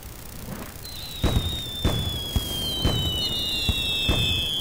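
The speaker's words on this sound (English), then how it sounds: "It's like it's shooting rockets all over the place." In the video game Little Inferno, a burning item shoots rockets in a rapid series of firework-like bangs, with a long whistling squeal trailing above them, fairly loud and close, with no talking.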